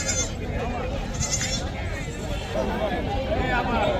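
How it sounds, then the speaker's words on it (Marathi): Goats bleat now and then amid a busy crowd of voices at a weekly goat market, the animal calls mixed in with steady chatter close by. "एक नंबर नाद शेळ्या आहेत बघा."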